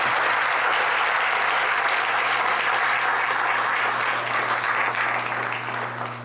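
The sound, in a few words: audience applause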